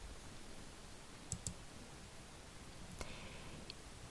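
Computer mouse clicks on a certificate login button during an IT competition task, a couple of quick paired clicks followed by another single click, small and crisp over low room hiss.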